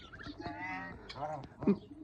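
Ducks quack and honk in short, nasal calls close by, several birds overlapping in a busy, chattering cluster.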